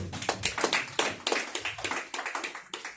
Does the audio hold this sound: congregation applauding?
yes